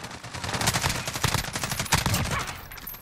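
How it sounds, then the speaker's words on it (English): A suppressed HK G36C rifle fires in Call of Duty Modern Warfare, a dense rapid stream of muffled, thudding shots bursting without pause for about three seconds, loud and close. "I just love the way the suppressor sounds on this weapon"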